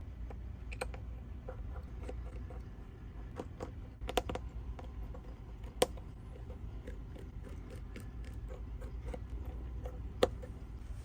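Small screws are being undone inside a Samsung Galaxy S22 Ultra opened for a broken-screen repair. Faint, scattered tiny clicks and ticks come from the screwdriver and parts over a quiet background, with a few sharper snaps and no talking.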